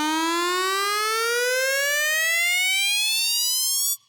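A loud synthesizer tone sweeps steadily upward in pitch for about four seconds, its timbre shifting and thinning, then stops abruptly.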